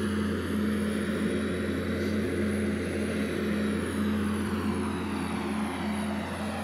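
Convair B-36 Peacemaker propeller engines droning steadily in Flight Simulator X, a loud continuous multi-engine hum with a constant tone and no breaks, heard alone without talk.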